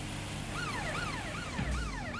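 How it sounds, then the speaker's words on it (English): The player's police car siren in Watch Dogs: Legion wails steadily in rising and falling sweeps over a low engine hum while driving through London traffic. "No one gets out of the way for my sirens."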